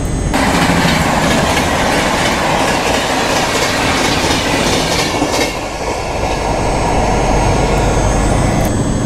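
On an Indian passenger train running from Malda to Kharagpur, the carriage rumbles loudly and continuously from inside, with wheels clattering over the rails and brief squeals, and no talk.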